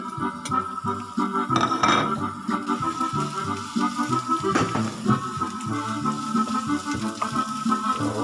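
Onions sizzle in hot olive oil in a frying pan, a steady crackle broken by a few metal clanks of a utensil against the pan, while making currywurst.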